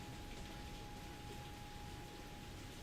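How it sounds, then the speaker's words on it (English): Heavy rain pouring in the Pokémon Legends: Z-A video game, a steady, dense hiss of downpour that fills the whole clip evenly, with a faint constant tone beneath and no talking. "It is just pouring, man."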